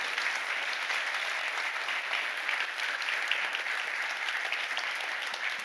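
Steady, dense applause from a conference audience at a talk on React performance, continuous and even throughout with no voices over it.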